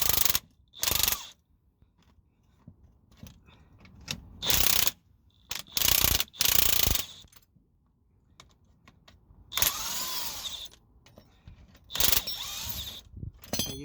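Close, sharp bursts of ratchet clicking as a ratchet undoes a spring compressor on a Ford Fiesta Mk7 front strut, coming in short irregular spurts with quiet gaps and small metallic clinks between them.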